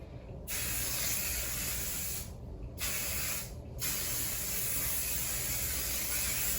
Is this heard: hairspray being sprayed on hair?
yes